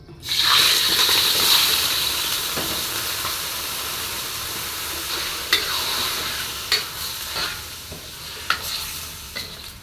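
Chicken pieces sizzle and crackle steadily in hot oil while cooking afritada, loud and close, with occasional clinks and scrapes of a utensil against the pan.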